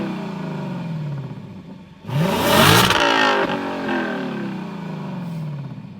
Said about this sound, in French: donc le V8, le son sport.